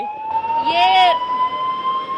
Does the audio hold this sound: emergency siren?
yes